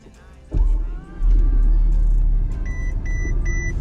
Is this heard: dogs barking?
no